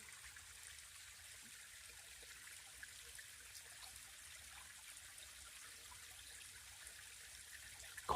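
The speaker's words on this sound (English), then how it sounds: "That stream had a lot more water in it last year." A small forest stream on a hiking trail trickles and burbles softly in the distance, a faint steady wash of water with no voices, ending in a sudden louder knock.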